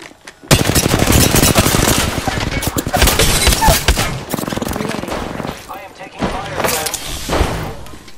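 Sustained automatic gunfire in a shooter video game, loud rapid bursts of fusillade with brief pauses, a louder stretch near the start and another near the end, with a voice speaking over parts of it.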